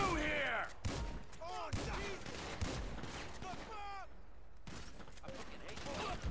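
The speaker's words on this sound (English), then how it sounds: "I'm getting shot at" Gunfire in GTA 5 crackles in bursts throughout, mixed with other game sounds and talking voices.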